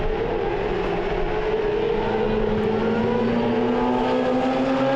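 Race cars from the FA1 Acceleration 2014 series at Portimao during the first qualifying session, engines droning steadily with rising pitch as they approach, a continuous dense roar throughout.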